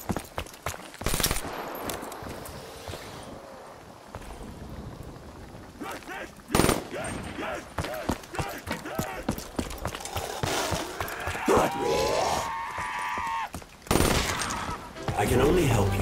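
Video game gunfire, with bursts of automatic shots and single cracks spread across a noisy in-game mix of effects, some loud and close, others quieter.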